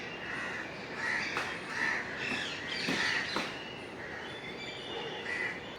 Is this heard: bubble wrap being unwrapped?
no